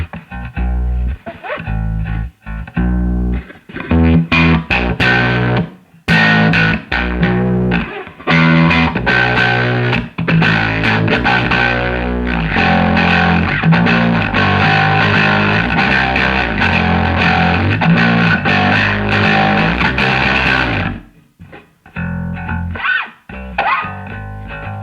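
An electric guitar played through a 1980s ProCo Rat II distortion pedal with the filter turned up, giving loud, dense, sustained distorted chords and riffs with brief pauses, then a quieter tail of sparse notes.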